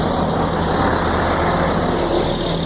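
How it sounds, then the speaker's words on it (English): Military vehicles rumble past at a truck stop in San Antonio, Texas, with a loud, continuous, close engine drone and road roar that holds steady throughout and has no talk over it. "Military vehicles."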